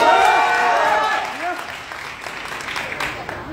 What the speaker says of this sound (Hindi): ताली बजा के आशीर्वाद दे रहे हैं